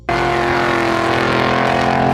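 A 1967 Pontiac GTO muscle car engine runs loud and steady, a deep rumbling drone with strong low harmonics held evenly throughout.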